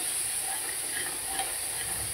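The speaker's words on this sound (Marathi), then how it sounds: "ते चमच्याने परतून घेते छानसं" Vegetables sautéing in a pan while stirred with a spoon, giving a steady close hiss of frying with faint soft scraping and no talk.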